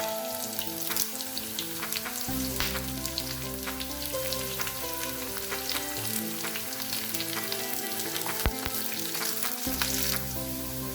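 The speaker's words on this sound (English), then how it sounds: "Roast the garlic nicely in oil. Now add the curry leaves." Sliced garlic and curry leaves fry in hot oil, filling the clip with a dense, crackling sizzle full of rapid pops, steady and close without any talk.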